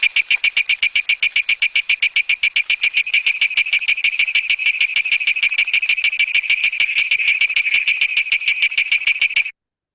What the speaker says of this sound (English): that was a toad which is capable of going onto the trees, called Malabar tree toad